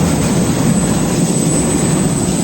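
A Clipper Super 298D seed cleaner, upgraded with a VFD and a high-wear fan, runs with a steady, even hum and broadband whoosh, loud and close, with no irregular knocks and no talking.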